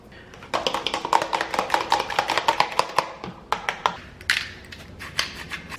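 Walnuts chopped with a knife on a board, a quick close run of sharp rhythmic taps and crunches that slows to a few scattered strikes near the end, without talk.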